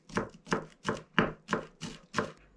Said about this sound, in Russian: Зеленый лук режем мелко.